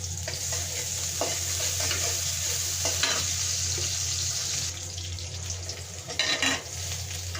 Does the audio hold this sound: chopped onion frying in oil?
yes